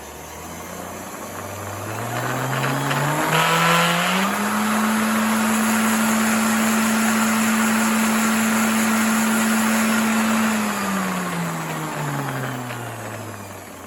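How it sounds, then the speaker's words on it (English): A Harbor Freight sander spins up, runs at a steady whining drone for several seconds with broad gritty noise, then winds down, close and fairly loud with no talking. "First, the Harbor Freight sander."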